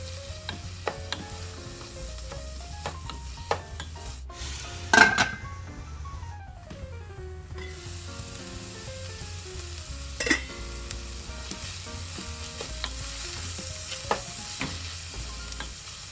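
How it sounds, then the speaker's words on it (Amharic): Ginger and garlic sautéing in a little oil in a pan, a steady soft sizzle broken by utensil clinks and scraping stirs, one sharper metallic knock near the middle, close, with no speech. "ከዛ ዝንጅብልና ነጭ ሽንኩርቱን እናጨምራና እናመስላለን።"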